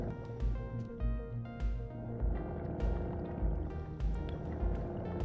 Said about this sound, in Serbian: motorizovanu stvarčicu da brže stignemo do dna.